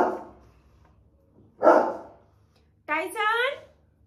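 A pet dog gives one sharp close bark after a short low opening yelp, then a longer whining, yowling vocalization near the end, loud and indoors with no talking.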